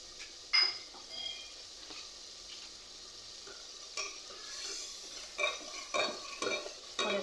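A spoon stirs chicken with tamarind, cinnamon and whole garam masala for biryani in a quiet pan. A faint sizzle runs throughout, with sharp scraping strokes and clinks that cluster toward the end.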